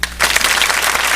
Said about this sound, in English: I'm definitely going to clap for that